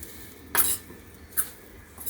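Spices, chilli powder and lemon juice being stirred into a potato and soybean curry with a spoon, giving a couple of short scraping clinks against the pan over a low background.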